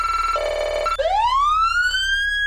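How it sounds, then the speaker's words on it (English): Roblox ANP police siren in priority mode: a brief steady two-tone pattern, then a single swooping rise that climbs and holds a loud high tone, with no one talking. "This is their priority."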